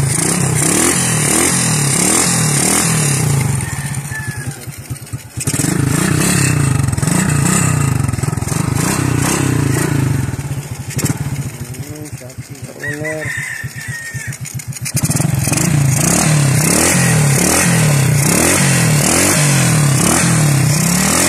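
A Honda RS 125 motorcycle, once flooded, runs after its carburetor has been cleaned, idling with a steady rhythmic engine note and occasional revs. A rooster crows nearby and people talk over the engine.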